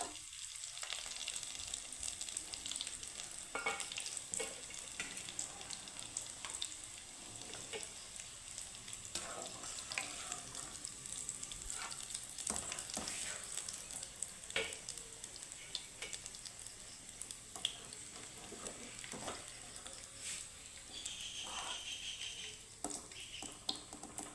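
Mashed potato snacks made from boiled potatoes fry in hot oil with a constant crackling sizzle and scattered sharp pops, close and soft, with no talking.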